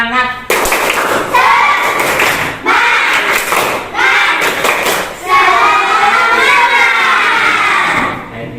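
A classroom breaks into a spirit clap, with bursts of rhythmic group clapping and voices chanting along in quick sections separated by short pauses.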